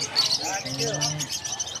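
Lovebirds at a Bocaue pet market chirp in busy, overlapping tweets, close and fairly loud, mixed with low market chatter and a voice talking underneath.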